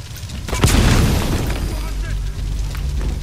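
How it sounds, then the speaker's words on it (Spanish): A loud, deep explosion booms in Metal Gear Solid: The Phantom Pain, with a sharp onset followed by a long rumbling tail. A person talks over the blast. "ahorita es una explosión"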